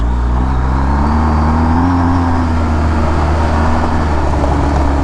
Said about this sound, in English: that's just gravel, although the bike is moving around a little bit